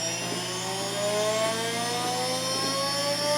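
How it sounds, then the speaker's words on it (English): A CNC router spindle spins up, its steady whine rising in pitch as it climbs toward speed, with a continuous mechanical drone beneath it and no talking. "Spin up the spindle."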